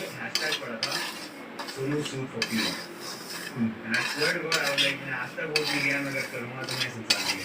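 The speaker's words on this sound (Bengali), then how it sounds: "সুজিটাকে কড়াইতে দিয়ে একটু মানে ভেজে নিচ্ছে।" Semolina is dry-fried in a wok while a utensil stirs it constantly, making continuous close scraping and rasping against the metal in uneven strokes, with no talking.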